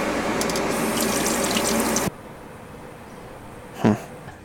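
Water runs loudly and steadily through a straight hose-to-hose connection on an RV in low temperatures, then cuts off abruptly after about two seconds, leaving quiet with one brief knock near the end.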